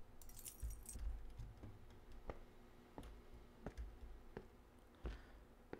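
A key picked up in the video game Beside Myself gives a short metallic jingle near the start, followed by a few soft, evenly spaced clicks over quiet room ambience.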